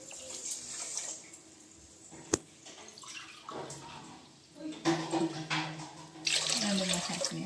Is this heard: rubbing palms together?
no